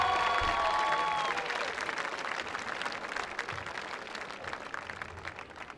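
Stadium crowd applauding a high school football senior class on senior night, a broad wash of steady clapping that starts strong and slowly thins out, with a few distant voices beneath it.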